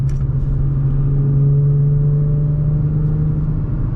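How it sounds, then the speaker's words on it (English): A deep, steady exhaust drone from an Infiniti G35 in third gear passing under a bridge, loud and resonant, holding a constant rumbling tone throughout. "there's a little under bridge here, so you might be able to hear the exhaust tones"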